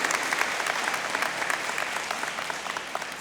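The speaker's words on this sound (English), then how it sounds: "Can I get a round of applause for them?" A crowd at a high school graduation ceremony in Indianapolis claps steadily, a dense, sustained round of applause at close range with no talk over it.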